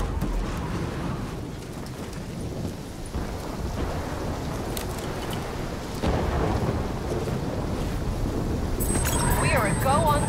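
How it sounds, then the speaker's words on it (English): A thunderstorm in the video game Call of Duty Black Ops 3, with a continuous loud roar of rain and wind, low thunder rumbling throughout, and a brief burst of electronic tones near the end. "Incoming superstorm too strong."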